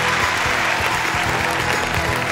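Studio audience applause on a Turkish music television show, honoring the lighting, sound and camera crew: a short, dense burst of clapping, loud and steady from start to finish.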